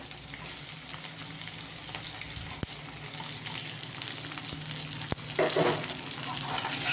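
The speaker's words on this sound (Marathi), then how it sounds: "आणि लगेचच आपण आपला जे काही कांदा आणि आलं होतं तर ते टाकणार आहोत।" Onion and ginger frying in a pan produce a continuous, fairly faint hiss and crackle up close, broken by a couple of sharp utensil clicks.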